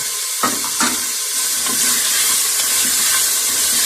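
Steady loud sizzling of chicken frying in a pan, with a few scraping clatters of a spoon stirring near the start, no voices.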